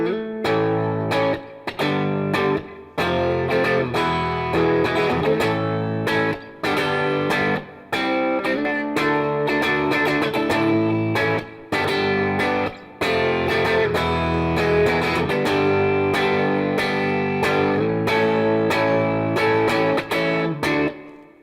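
A Fender electric guitar with both pickups selected plays through an amp's yellow crunch channel, giving a loud, distorted, rhythmic run of chords and riffs with sharp, regular breaks between the strummed phrases.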